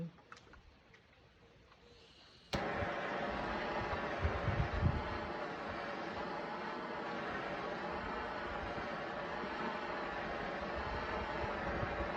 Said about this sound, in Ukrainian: я обираю будівельний фен